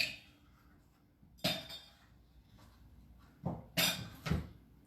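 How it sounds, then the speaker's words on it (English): Fresh ice cubes clink and rattle into a cocktail glass for a bourbon Negroni, several sharp, close clatters in short bursts with quiet gaps between. "we'll start up with some new ice."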